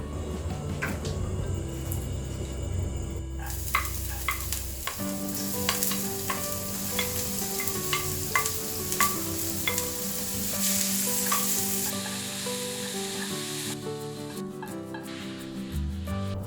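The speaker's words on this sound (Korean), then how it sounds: "팬에 기름을 두르고 준비해둔 채소를 먼저 살짝 볶아줄 거예요." Vegetables stir-fry in oil in a pan for an omelette, a continuous close sizzle with frequent scraping and tapping of a spatula, steady and full throughout with no talking.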